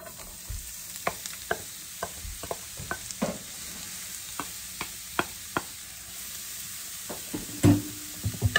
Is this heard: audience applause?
no